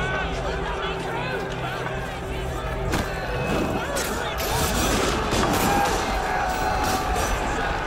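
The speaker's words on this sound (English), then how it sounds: "Assassinating the guards inspired the crowd to storm the palace by force." In the Assassin's Creed Unity video game, a massive Paris crowd storms a palace by force: dense roaring crowd noise mixes with bursts of gunfire and heavy booms, loud and chaotic throughout.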